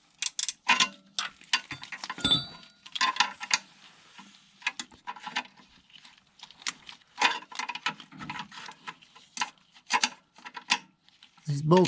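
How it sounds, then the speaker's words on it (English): A wrench working tight bolts loose on an RC car engine, close metallic clicks, ratcheting and scraping in irregular bursts, with a few louder clanks among them. "These bolts are usually pretty tight. Sometimes with a wrench require a little bit more persuasion."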